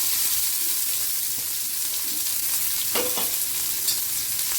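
Finely chopped small onions (shallots) sizzle steadily in a hot pan for biryani gravy, with a spoon stirring and scraping through them and a couple of sharper clinks near the end, no voices.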